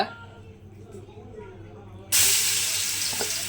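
Ginger and garlic paste hits hot oil for a chicken curry, bursting into a sudden loud, steady sizzle after a quiet moment, then hissing on close by.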